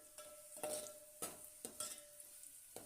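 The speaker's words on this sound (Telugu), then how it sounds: "కలుపుకుందాం." A spoon stirs tamarind rasam with added turmeric in a pot, with several light scraping clinks in an uneven rhythm over a faint sizzle, quiet and close.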